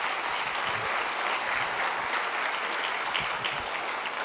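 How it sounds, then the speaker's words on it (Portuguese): A church congregation claps steadily and densely throughout, a full sustained round of applause filling the space. "Vamos aplaudir Jesus, irmãos."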